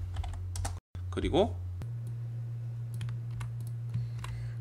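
Mouse clicks and keyboard taps at a computer running AutoCAD, a steady run of small close clicks under a constant low hum, with a brief spoken word partway through.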